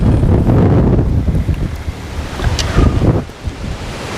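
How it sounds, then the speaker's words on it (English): Strong wind buffets the microphone outdoors on a fishing boat, a loud steady roar with gusty low rumble that eases and swells again, while waves wash faintly in the background. "It's about enough wind to blow the hat off my head here."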